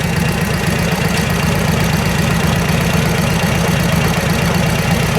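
A 1949 Harley-Davidson 45 motorcycle engine idles close by, a loud, continuous, rough rumble with a steady knocking pulse throughout, alone with no voices.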